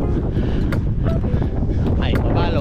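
Cold wind gusts loudly across the microphone outdoors, a heavy continuous rumble with buffeting bursts throughout.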